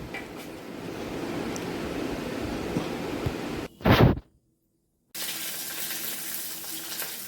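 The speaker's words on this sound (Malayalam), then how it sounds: "ഈ വെളിച്ചെണ്ണ ചൂടായി കഴിയുമ്പോൾ അതിലേക്ക് കടുകിട്ട് കൊടുക്കണം" Mustard seeds crackle and sizzle in hot coconut oil, a steady close frying hiss with small pops, broken by a brief louder burst and a short silence before the sizzling resumes.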